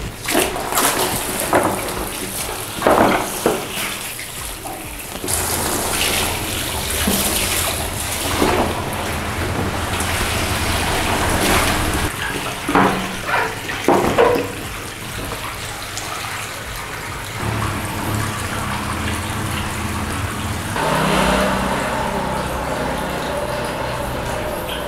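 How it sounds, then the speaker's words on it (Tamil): Water poured in a steady, splashy rush to fill a small inflatable kids' swimming pool outdoors, continuous with brief surges and bumps over about twenty-five seconds. "ஓகே ஸோ இப்போ வந்து செகண்ட் டைம் தண்ணி நம்ம ஃபில் பண்ண போகிறோம்."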